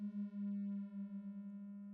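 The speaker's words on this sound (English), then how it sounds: "here's just set up to send out a sine wave signal" A quiet, steady pure tone from a MIDI LFO set to send a sine wave signal, holding one low pitch with faint overtones and a gentle wobble in level for about two seconds, with no voices.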